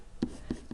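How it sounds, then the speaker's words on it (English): Three short, soft scratches of pen or pencil writing on paper, quiet and close, spaced a fraction of a second apart. "I'm going to write that in so I don't forget"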